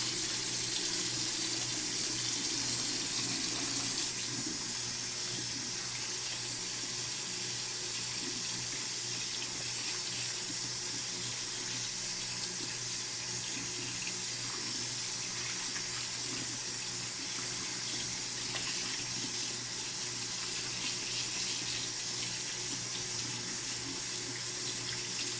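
Tap water runs steadily into a sink as hands are washed beneath it, a continuous close splashing hiss with no breaks.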